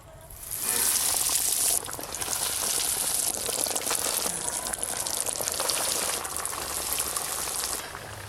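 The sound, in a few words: jackfruit cutlets frying in hot oil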